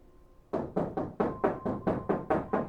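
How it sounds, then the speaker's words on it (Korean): Eight firm, evenly spaced knocks on a wooden door ring out in a quick steady rhythm after a short quiet lead-in, each with a short resonant decay, as a horror radio sound effect. "누군가가 노크를 했습니다."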